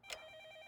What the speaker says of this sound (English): The phone is ringing far away.